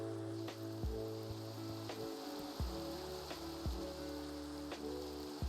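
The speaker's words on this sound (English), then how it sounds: "It's raining in this very specific pattern." Steady rain in Minecraft patters over a soft background of sustained musical tones, with occasional sharper drips landing at irregular intervals.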